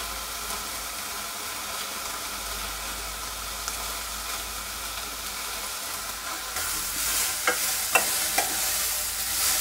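Shravan ghevda bean pods dry-roasting in a pan give a steady, faint hiss of sizzling and stirring. Toward the end it grows brighter, with a few sharper scrapes or crackles, and no one speaks.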